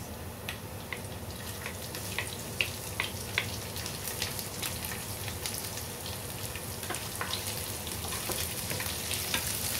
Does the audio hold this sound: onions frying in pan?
yes